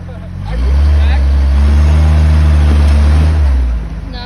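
Rock crawler engine on a canyon trail revving up from idle into a sustained loud, deep roar for about three seconds, then easing off, with a voice talking over it.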